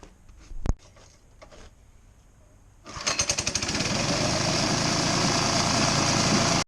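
Small engine on a drift trike starts after a few clicks and knocks, catching with rapid pops and then settling into a steady, loud, buzzing idle close by, with no talk.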